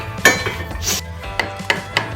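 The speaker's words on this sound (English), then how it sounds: "you get your knockometer out, aka a hammer, and you just slightly move it, like I did here" A hammer taps a metal brake part on a kids' quad bike under rebuild, several sharp separate metallic knocks with a brief scraping sound between them, close and loud.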